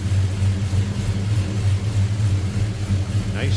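A 1969 Chevrolet C10 truck with a 5.3 liter engine, headers and a mild cam runs with a lumpy, throbbing idle that rises briefly in a rev, deep and close, a short rhythmic burble with no talk.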